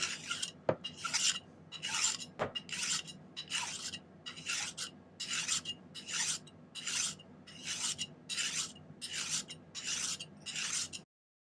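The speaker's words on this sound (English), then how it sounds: "Normally just hand file it, but I got this new vise thing, so let's give it a try." A hand file rasps across a silver ring clamped in a miter vise in a steady series of about fourteen rhythmic back-and-forth strokes, close and clear, with two sharp clicks near the start and a short silence at the end.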